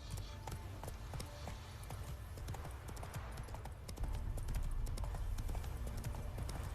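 Roach the horse clip-clops along in The Witcher 3, hooves striking in a steady rhythmic gait that picks up pace and loudness toward the end, with no voices over it.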